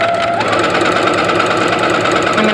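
A sewing machine with a quarter-inch foot runs steadily while stitching a quarter-inch seam along a marked line on quilt fabric. The motor whirs loud and close, with a continuous rapid needle rhythm and no talking.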